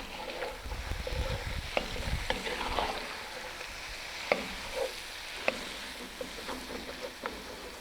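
Potatoes and garlic dropping into a Dutch oven of browning bacon, sausage and softening onions for Dublin coddle, with a steady sizzle, stirring scrapes and a few sharp clicks of a utensil against the pot.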